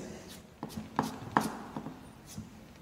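A chef's knife chops vegetables into julienne strips on a cutting board, giving several sharp, separate knocks spaced irregularly, close and fairly quiet, with no talking.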